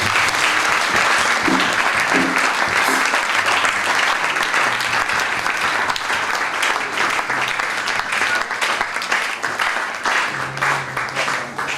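A church congregation applauds in a loud, sustained wash of clapping that fills the whole stretch, with faint voices mixed into the crowd.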